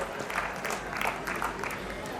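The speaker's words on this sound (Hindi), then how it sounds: "एक बार जोरदार तालियां इनके माता पिता के लिए हो जाए" An audience at a Marwar festival in 2023 claps for the parents being honoured, a moderate patter of applause that swells in a few soft waves over a brief stretch.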